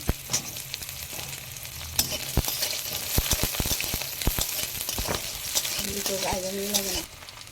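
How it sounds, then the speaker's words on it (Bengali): Radish sizzles in oil while a utensil scrapes and stirs the pan with repeated sharp clicks; a brief tonal sound near the end. "মূলোটা আগে একটু ভেজে নিলাম ভালো করে"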